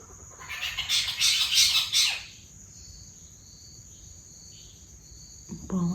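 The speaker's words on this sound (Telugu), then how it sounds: "అక్కడ అదే పక్షి అరుస్తుంది కదా" A loud, harsh bird call repeats in a burst for about two seconds over a steady insect-like hum, then fades, leaving faint chirping.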